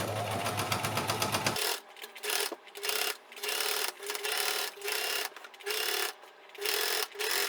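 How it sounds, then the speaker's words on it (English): A sewing machine stitches fabric in loud, rapid whirring bursts that stop and start in a steady rhythm of short runs with brief pauses, close up and with no talking. "I have less fabric going in through the sewing machine."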